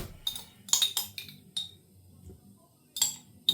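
Teaspoon clinking against a glass jar of mint sauce, a handful of sharp, bright metal-on-glass taps in irregular bursts with quiet gaps between, close and fairly soft.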